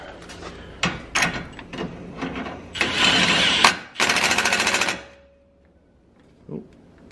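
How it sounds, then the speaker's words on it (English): A nut is tightened on a steering kit fitted to a 1988–98 OBS Chevy truck, heard as close bursts of ratcheting and clicking with short gaps between them and a quiet tail. "Get the nut on there. And get it tightened up quick."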